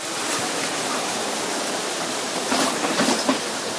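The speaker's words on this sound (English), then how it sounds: "Now we got waterfall, Elliot." A waterfall at a Disney theme park gives a steady broad rush of falling water, with brief soft voices and movement rising over it near the end.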